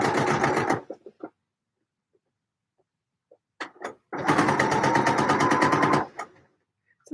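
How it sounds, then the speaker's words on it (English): A sewing machine stitching a seam with a 3/8-inch seam allowance, two close bursts of rapid, even needle chatter separated by a quiet pause with small handling clicks. "So I'm actually sewing this with a 3/8 of an inch seam allowance"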